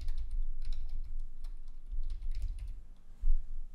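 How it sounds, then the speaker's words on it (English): Fingers type a password on a computer keyboard, a quick irregular patter of clicky keystrokes in bursts with short pauses and one louder tap near the end. "I have to retype the password again."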